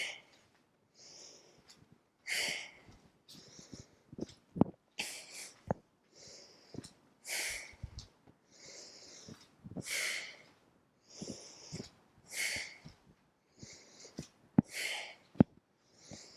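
Forceful breaths pushed out through the nose and mouth during a yoga flow, a steady run of sharp, close exhales roughly every second or two, with softer inhales and hissing air between them.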